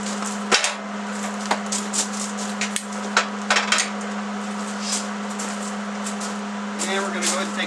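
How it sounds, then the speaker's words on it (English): A steel clamp being taken off a tab-and-slot welding table, sharp metallic clanks and taps at irregular intervals over a steady electrical hum in a workshop. "I'm going to take this clamp off."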